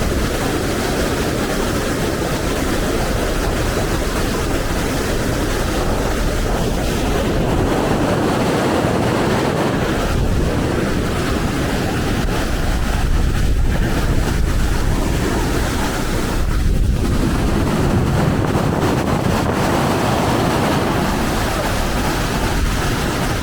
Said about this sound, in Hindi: बड़ी ठंडी हवा चल रही है इधर पानी की रफ्तार से